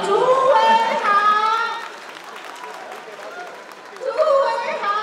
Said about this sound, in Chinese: 掌声大声一点吧！